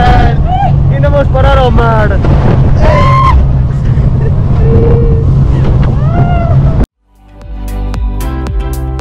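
A small jetboat speeds on the sea near the Benagil caves, with a constant loud roar of engine and wind, while people shout and talk excitedly over it before a sudden cut to a quieter stretch.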